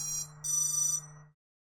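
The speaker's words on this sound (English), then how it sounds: "And you heard it just beep." A drone flight controller's beeper running Betaflight sounds in two short electronic buzzing tones with a brief gap between them, then cuts to silence.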